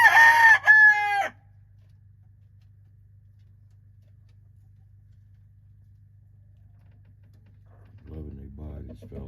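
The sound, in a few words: rooster crowing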